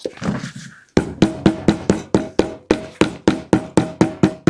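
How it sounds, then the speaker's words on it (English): A mallet strikes leather laid flat for making mule shoes, about a dozen evenly spaced, close, solid thumps in a steady rhythm after a few softer, muffled knocks. "you can just pick up your mallet and you hit it"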